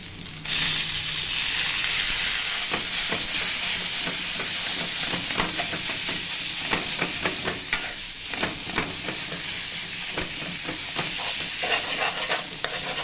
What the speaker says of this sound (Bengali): সেদ্ধ করা কচু শাক, যেটা আমি একটু আগে লেবু দিয়ে ম্যারিনেট করলাম, সেটা এখন এর মধ্যে দিয়ে দেব।